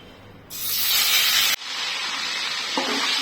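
A sudden loud burst of sizzling hiss as marinated chicken hits hot oil, then a steady, slightly quieter frying crackle continuing.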